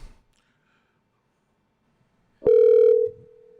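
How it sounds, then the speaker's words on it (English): After near silence, a single loud electronic telephone ring tone sounds for about half a second, then fades to a faint lingering tone. "It's ringing. It's ringing."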